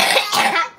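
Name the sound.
child coughing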